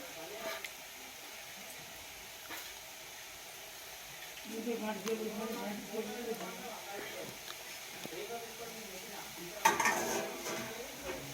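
French fries cooking in hot oil give a soft, steady sizzle with occasional utensil clinks and stirring, while a person talks over it at a low level.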